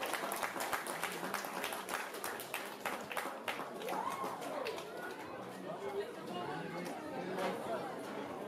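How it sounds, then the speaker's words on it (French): A crowd at a Super League football event between SC NE Drehu and AS Magenta claps steadily, a dense continuous patter mixed with chatter and a voice speaking over it. "on peut applaudir les deux clubs de Super League"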